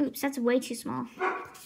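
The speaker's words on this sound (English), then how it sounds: "That's my dog. Like I said, you already hear some barking." A dog barks in short yips under a person talking nearby, the barks mixed into the speech.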